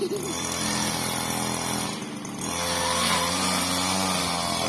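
A motorized string trimmer whines steadily while cutting grass in front of a temple restroom, its engine note dipping briefly near the middle before rising again, loud and continuous with no talk over it.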